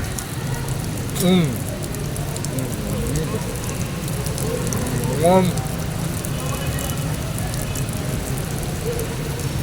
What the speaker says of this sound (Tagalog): Kalong lumalakas ang ulan.